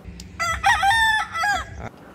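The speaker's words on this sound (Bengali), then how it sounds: "সকালে ঘুম ভাঙবে মোরগের ডাক আর পাখির কলকাকলিতে" A rooster crows once at Baranti village resort in rural Purulia, a single close, clear cock-a-doodle-doo over a quiet morning background.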